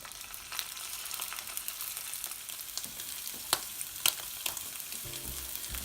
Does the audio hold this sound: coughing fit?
no